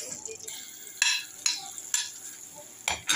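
Onions go into a hot pan and are stirred. Bursts of sizzle and scraping come in uneven strokes roughly every half second over a faint background hiss, with no clear talking.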